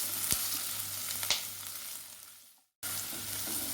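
Paneer butter masala ingredients sizzle and fry over a high flame while a utensil scrapes and stirs through them, with two sharp clacks early on, a brief dropout near the end, then steady frying again.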